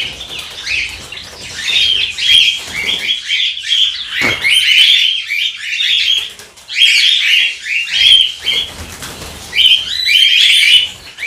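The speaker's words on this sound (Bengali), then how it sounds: "পাখির সামনে যাওয়া যাচ্ছে না, পাখি এত চিল্লাচ্ছে বলে" Dense, shrill screeching from many cockatiels at once, loud and continuous with brief lulls, like a crowded aviary.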